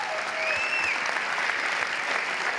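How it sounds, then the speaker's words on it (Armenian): Audience at a club-style talk show applauding its guests, a dense, steady wash of clapping held evenly for the whole stretch, with a faint whistle-like tone gliding over it. "եկեք մի հատ ծափ հանենք մեր այսօրվա հյուրերին"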